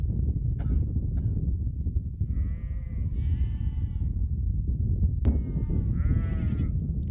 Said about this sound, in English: The goats and sheep are getting ready to graze.